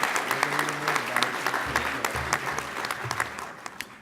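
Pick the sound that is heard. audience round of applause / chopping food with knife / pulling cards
audience round of applause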